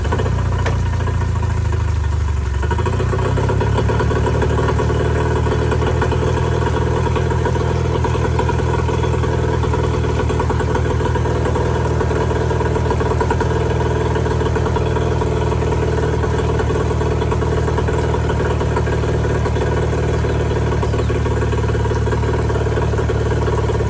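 An outboard boat motor idles steadily and loudly close by for a long stretch after a brief change in pitch near the start, running on until the carburetor empties, with no talking.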